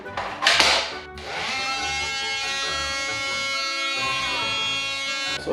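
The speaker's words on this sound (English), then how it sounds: "Use the oscillating drill here." A steady, buzzing Porter-Cable oscillating tool whine runs continuously with a rich harmonic tone, cutting a hole in wood for a desk, preceded by a brief burst of louder rough cutting noise near the start.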